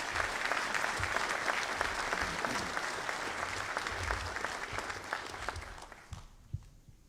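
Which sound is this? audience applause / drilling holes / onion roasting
audience applause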